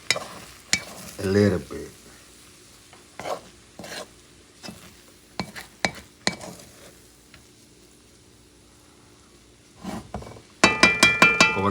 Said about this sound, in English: So what you do is you start moving it. You stir